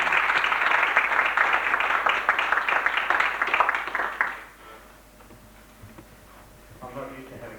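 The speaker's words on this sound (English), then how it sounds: "so if we can have a round of applause for that" An audience applauds steadily and loudly for about four seconds, the clapping cutting off abruptly and leaving quiet room tone with a few faint shuffles.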